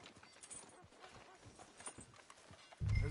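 A horse's hooves clip-clop at a steady walking pace in the Red Dead video game, faint and rhythmic, with a sudden louder low rumble at the very end.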